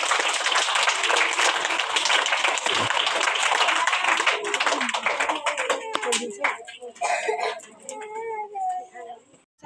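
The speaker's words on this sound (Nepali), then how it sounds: "उहाँलाई हामी जोरदार तालीद्वारा स्वागत गर्नेछौँ।" Enthusiastic audience clapping welcomes a children's drama at a kids' program, dense and loud for several seconds before thinning out as voices and other noises take over.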